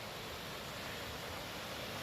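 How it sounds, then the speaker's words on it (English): A creek swollen after a night of rain rushes past a forest road, making a steady, even broadband roar of water that sounds like a waterfall and comes from a short distance away. "the creek is running pretty strong"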